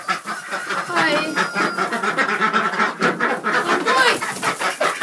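Busy clucking of chickens and quacking of ducks, near and continuous, with a person briefly speaking among the birds.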